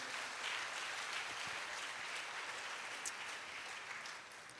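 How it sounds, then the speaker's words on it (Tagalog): A congregation applauds for the Lord, a faint, distant wash of clapping that holds steady and then gradually thins out toward the end. "mas malakas sa palakpak, ibigay natin sa Lord"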